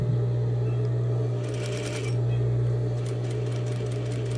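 A sewing machine hums steadily and loudly while stitching and back stitching a seam, with a faint clicking texture on top.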